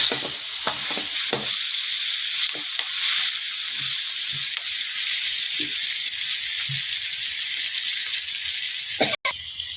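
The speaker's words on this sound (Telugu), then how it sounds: "పచ్చిమిర్చి ఫస్ట్, ఆలుగడ్డ, నూనెలో బాగా ఉడకాలి ఆలుగడ్డ." Green chillies and potatoes fry in oil with a loud, steady sizzle up close, while scattered spatula scrapes and rattles sound against the pan and a sharp click comes near the end.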